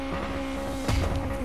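A rally car engine in the video game WRC 5 drones steadily, then a burst of gritty skidding and tire noise hits near the end.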